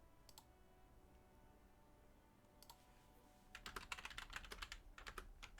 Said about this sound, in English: You can hear her quickly typing in the background.